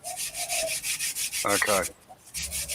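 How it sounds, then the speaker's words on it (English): Steady rhythmic rasping of sandpaper on a wooden table, close by, repeated strokes that briefly pause before resuming, with a short burst of voice in the middle. "Sitting on Amber's table that she's sanding at."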